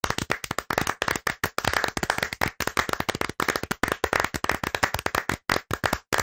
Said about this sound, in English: What we have, though, is a round of applause that's clipping.